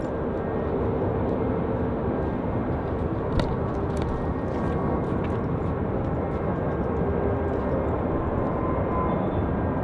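The Vietnamese presidential jet departs Sydney Airport for Canberra at night, its engines a steady, continuous broadband roar that holds loud and even throughout, with no voices.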